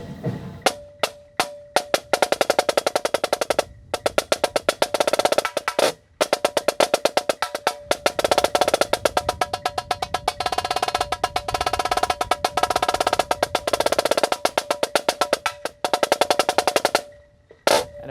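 A drumline snare drum plays a 2018 Vandegrift snare break with feet, rapid loud rolls and accented strokes in dense bursts with brief gaps, ending on a buzz release, heard up close and alone.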